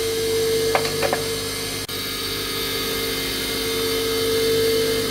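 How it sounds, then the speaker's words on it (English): A bench grinder's motor runs evenly throughout with a steady mechanical hum, quiet and constant, with a couple of brief faint scraping bursts early on. "The grinder itself runs quietly"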